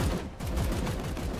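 Dense automatic support fire in Warhammer 40k: Chaos Gate – Daemonhunters, a rapid, continuous rattle of gunshots with steady rhythm, loud and close, no talking.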